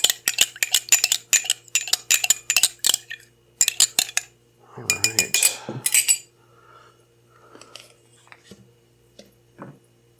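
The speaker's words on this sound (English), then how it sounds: "gotta stir it a little bit more." Metal spoon stirring honey soda in a glass, a rapid run of bright clinks against the sides, then a short fizzy swirl and a few scattered taps as it settles, close and with no talk.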